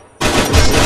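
A burst of rapid gunfire in the Free Fire mobile battle game, starting abruptly after a brief quiet moment and running as a loud, dense volley to the end.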